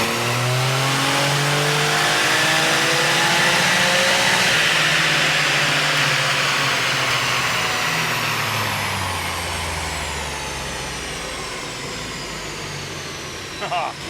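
A high-powered built car engine revving hard on a dyno, a loud sustained roar that climbs in pitch, then eases and fades toward the end with a short clatter.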